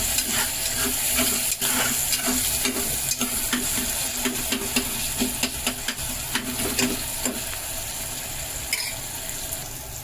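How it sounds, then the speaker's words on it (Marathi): Tomatoes frying in a pan give a loud, steady sizzle with frequent stirring scrapes and clinks of a utensil against the metal, close and continuous throughout. "टोमॅटो पण घेऊया भाजून."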